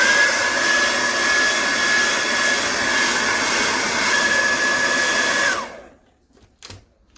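A heat gun blows hot air onto a Samsung J4 Core phone screen, a loud steady whooshing whine with a faint high tone that winds down and stops, followed by a couple of small handling knocks.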